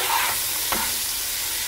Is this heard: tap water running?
no